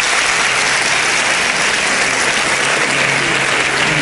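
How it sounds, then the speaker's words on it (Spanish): Sustained applause from a studio audience on a Spanish television show, filling the whole stretch with a dense, steady roar of clapping and no talk over it. "El aplauso de todos."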